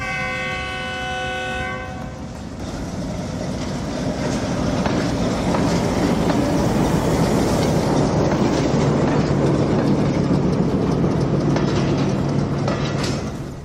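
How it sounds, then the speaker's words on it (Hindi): A goods train hauled by several engines at Lahore, beginning with a horn blast, then a loud, close, continuous roar and rumble of wagons rolling past on the track, with rattling clatter building and holding. "जब रेलवे के इस ट्रैक के पास बैठे और 7 इंजन का शोर आता है"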